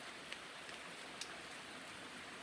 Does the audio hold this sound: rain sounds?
yes